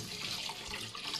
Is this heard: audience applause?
no